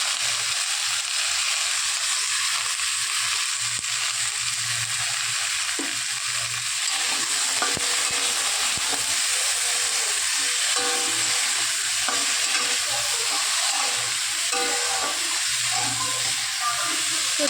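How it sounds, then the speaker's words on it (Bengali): Salted food frying in a pan makes a steady, close sizzle and hiss, broken by intermittent scraping stirs, with faint talk now and then. "তো চলো ভেজে নিই"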